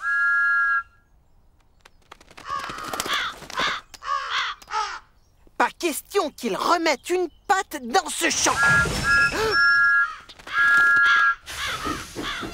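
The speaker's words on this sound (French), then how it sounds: "Mais les corbeaux n'ont pas l'air d'avoir peur de Thomas." Crows caw repeatedly in a field in an animated children's train show, with loud harsh calls and whistling in between, and a character speaking over parts of it.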